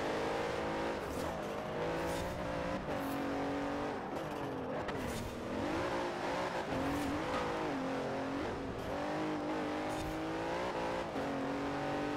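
A Bentley Continental GT revs hard in the racing game Forza Horizon 4, its engine note climbing and dipping through repeated gear changes, loud and close for the whole stretch, with no voices.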